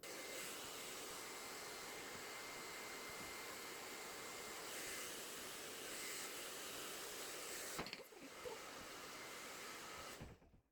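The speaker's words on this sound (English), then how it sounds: "So what we need right now is a round brush and a hair dryer, and we're gonna blow the hair back" A hair dryer blows steadily with a loud, broadband whoosh that cuts out briefly near the end and then resumes.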